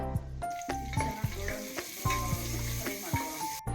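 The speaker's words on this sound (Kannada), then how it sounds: "ಅದಕ್ಕೂ ಸ್ವಲ್ಪ ಈರುಳ್ಳಿ ಮತ್ತು ಒಂದು ಸ್ವಲ್ಪ ಕಸ್ತೂರಿ ಮೇಥಿನ ಹಾಕ್ಕೊಂಡು ಫ್ರೈ ಮಾಡ್ಕೊಳ್ಳೋಣ" Chopped onion and kasuri methi sizzle in oil in a pressure cooker with a continuous bright crackle. Repeated knocks and scrapes of a spoon against the pot run through it at a steady rhythm.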